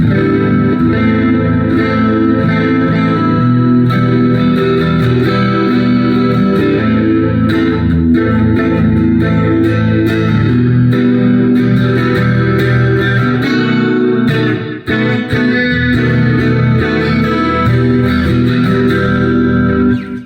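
A heavily distorted electric guitar with passive EMG pickups on a metal amp channel plays thick sustained chords and riffs, loud and continuous, with a brief drop in level near the end.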